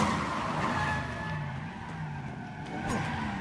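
A car skids and squeals while it chases the player in the Resident Evil 7 horror video game, with a steady engine drone and tyres scraping in fairly low, continuous waves.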